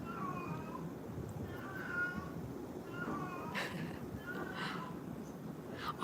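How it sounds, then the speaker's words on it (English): A neighbour's cat meows repeatedly, about five drawn-out calls spaced a second or so apart, fairly faint against a quiet background hiss with no speech. "that's the kitty next door."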